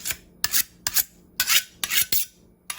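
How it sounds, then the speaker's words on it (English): A dull kitchen knife is sharpened with quick, rasping strokes, about six separate scrapes in an uneven rhythm, close up and fairly quiet, during goat curry preparation. "My knife is a little dull, so I'm gonna, have you ever sharpened your knife like this?"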